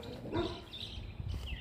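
A dog barks and yips somewhere nearby in short, sharp bursts, mixed with faint whimpering over a steady background rumble, loosely spaced through the moment.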